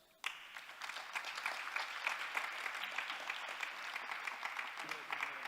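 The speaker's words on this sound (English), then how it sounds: "please give them applause" Audience applause at a conference on Europe, starting abruptly and continuing as steady, moderately quiet clapping from a room full of people.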